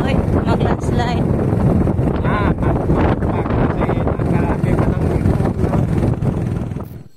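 Strong wind buffets a boat out at sea, a loud, steady roar with gusty rumble filling the whole stretch, and people talk faintly underneath.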